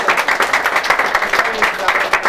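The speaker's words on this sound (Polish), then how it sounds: "Brawa na" Players at a gaming tournament clap for the named competitors, a short burst of scattered, uneven hand claps from a small crowd, mixed with chatter and voices.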